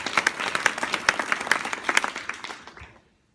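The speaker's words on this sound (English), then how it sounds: "Can we give Martin a round of applause?" An audience breaks into a round of applause for Martin at a talk on team building, dense and steady clapping from many hands that thins out and stops at the end.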